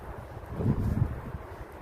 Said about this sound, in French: il y a beaucoup de vent, mais il pleut